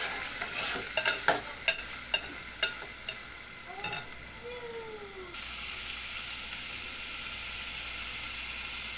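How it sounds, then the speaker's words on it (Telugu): Green chillies and onions being fried in a pan, a steady soft sizzle with a run of sharp stirring clinks and taps early on, alone with no talk. "పచ్చిమిరపకాయలు, ఇదిగోండి ఉల్లిగడ్డలు, ఉల్లిపాయలు ఇలా వేసి వేయించుకోవాలి."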